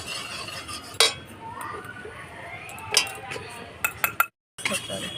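A small spoon clinks against a pan while gram flour is added to hot melted butter for chicken tandoori. A few sharp, bright taps ring out over a soft kitchen background.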